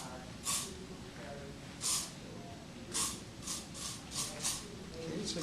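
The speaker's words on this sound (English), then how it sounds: "I'm working with the spray" Hairspray hisses from an aerosol can onto a bridal updo in a series of short close bursts, about seven separate puffs at uneven intervals, with quiet speech in the background.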